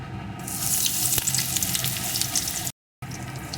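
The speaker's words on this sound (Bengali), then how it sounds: "এখন এর ভিতরে আমি দিয়ে দেবো একটু পেঁয়াজ কুচি" Chopped onion drops into hot oil for a bharta and bursts into a loud, dense hissing sizzle that stays steady until a brief cut, then continues.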